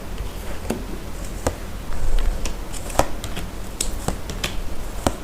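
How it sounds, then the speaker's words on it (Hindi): Tarot cards are shuffled and drawn by hand, a steady papery riffle with sharp flicking snaps scattered throughout, close and fairly loud. "पहले मेरा कार्ड्स निकालना बहुत जरूरी है आप लोगों के लिए।"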